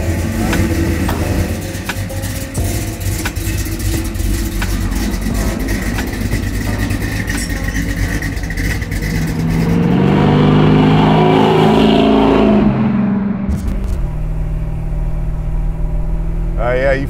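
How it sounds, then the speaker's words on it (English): A 1965 Chevy El Camino with a 327 V8 and a shift kit cruises on the road, its engine rumbling steadily and then revving up and dropping as the transmission shifts firmly, with people talking inside the car. "You feel that shift kit when it shifts, it hits, huh?"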